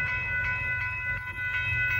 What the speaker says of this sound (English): We got a freight train coming by